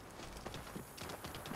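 Rapid clip-clop of horse hooves at a steady gallop in Assassin's Creed Origins, close and fairly loud, with a continuous low rumble underneath.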